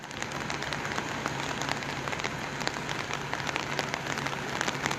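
Rain falling in Alto Alegre, Cascavel, a dense steady hiss of drops striking surfaces, loud and close for the whole stretch, with no voices.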